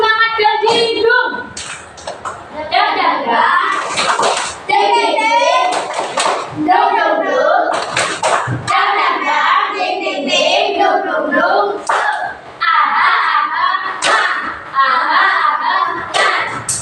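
A second group of children does the spirit clap and finishes by touching their noses. Bursts of clapping and thumps sit under loud chanting and speech from the kids and their teacher.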